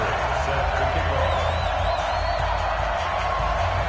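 Stadium crowd noise from an EA Sports NFL video game before a Pittsburgh Steelers versus Denver Broncos match, a steady dense roar with faint whoops and whistles rising above it, constant and loud throughout.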